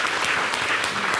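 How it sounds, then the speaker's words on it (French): Audience applause on a French television variety show, a steady dense patter of clapping throughout, fairly loud with no voices on top. "On applaudit le mannequin."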